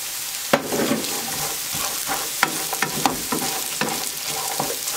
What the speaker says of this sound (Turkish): Birazcık da sucukla kızartacağım.